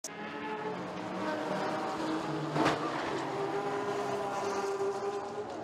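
Race cars roar around Bathurst in a racing simulator game, a dense, steady engine drone with overlapping cars and a sharp burst near the middle as one car, the number 16 Phoenix racing car, crashes heavily.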